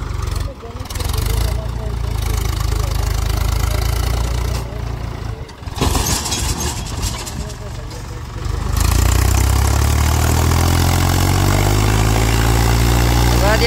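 A tractor engine drones loudly and steadily under heavy load, rising to a deeper, stronger roar near the end as it strains, with a muddy, gritty background.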